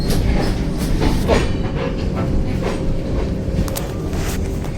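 Prashanti Express train running, heard from inside a first-class AC coach: a loud, steady rumble with rhythmic clickety-clack of wheels over rail joints and faint hiss, continuous throughout.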